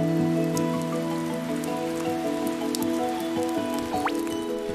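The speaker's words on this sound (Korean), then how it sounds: "금세 비가 오기 시작합니다." Rain falls steadily on a lake in southwestern China, a dense, even patter across the whole stretch. A sustained tonal hum lies beneath the drops.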